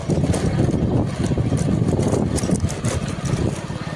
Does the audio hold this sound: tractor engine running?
yes